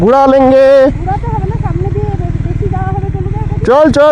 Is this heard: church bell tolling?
no